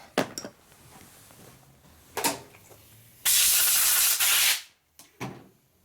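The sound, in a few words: compressed air blowing off a Harley wheel hub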